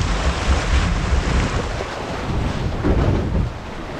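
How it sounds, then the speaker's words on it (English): Loud, continuous churning of river rapids and standing waves around a canoe on a northern wilderness river, heavy with wind rumble on the microphone and easing slightly at the end. "Again, just trying to get on the outside of these standing waves."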